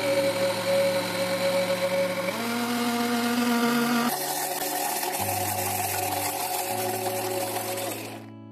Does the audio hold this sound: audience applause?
no